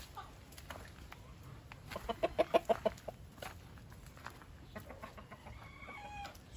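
Hens in a backyard coop during hot weather cluck in a quick burst of five or six loud calls midway, with scattered softer clucks and distant crowing before and after over a quiet outdoor background.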